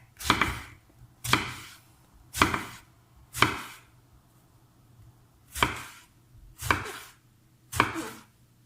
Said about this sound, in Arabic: ودابا غادي نبدا نقطع